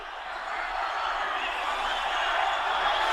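A large audience applauds a band at a show, a dense, steady wash of clapping that swells slightly louder across a few seconds.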